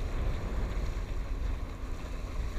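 Steady rushing wind noise buffets a 5.5 metre windsurfing sail rigged on a Bic ACE-TECH stand-up paddle board out on the water, a constant loud blustery roar with faint water wash and no voices.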